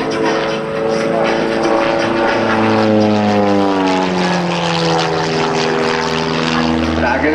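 A fabric-covered aerobatic propeller airplane drones loudly and steadily overhead at an airshow, its engine pitch sliding up and down as it maneuvers through the sky.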